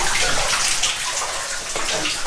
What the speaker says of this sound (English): There's a lot of water here. Look at this. We got a leak.